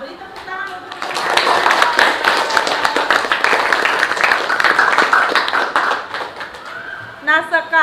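A classroom of children claps together in a dense, sustained round of applause lasting several seconds, with young voices and chatter mixed in.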